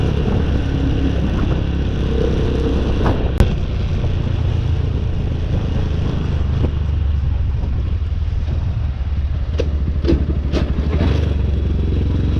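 A motorcycle engine running continuously, a loud steady rumble mixed with wind buffeting the microphone and occasional rattles and clatter, heard close from the rider's position while moving.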